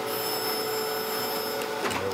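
A surface grinder wheel working across a magnetic chuck gives a steady, loud mechanical whine and hum with bright tonal lines, continuous throughout, with a brief shift near the end.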